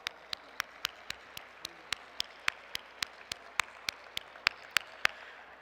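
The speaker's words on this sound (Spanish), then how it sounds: "Un aplauso para todos esos legisladores" Slow, evenly spaced single claps, one sharp crack roughly every quarter second, from an audience applauding legislators at an early childhood public policy congress in Puebla.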